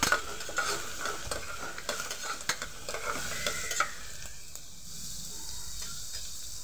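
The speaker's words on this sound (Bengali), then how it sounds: "এবার ভেজে নেব পেঁয়াজটাকে ভালোভাবে।" Three chopped onions fry in hot oil in a pan for a mutton paya curry, with a steady close sizzle and repeated scraping strokes as they are stirred.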